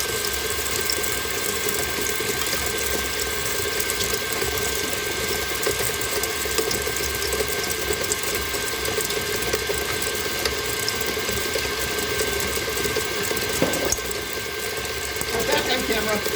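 A loud electric mixer creaming soft butter whirs steadily throughout, a constant mechanical drone with faint rattling, and a short knock near the end.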